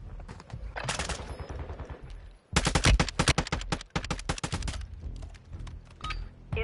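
Rapid automatic gunfire in the Warzone video game, loud dense bursts of machine-gun shots crackling near and close together, with a brief pause before a heavier, sharper volley and continuing intermittent fire.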